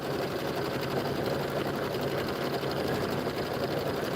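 An embroidery machine stitches a border on a Kimberbell Hoppin' Down the Bunny Trail bench pillow, giving a steady, close mechanical whir with a fast repeating needle rhythm that runs unbroken throughout.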